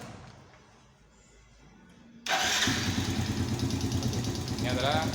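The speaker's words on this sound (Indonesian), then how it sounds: "Baru setelah itu kita hidupkan mesin ya." A motorcycle engine cranks and catches about two seconds in, then settles into a steady, loud idle close by after an oil check and oil change, with no talk over it.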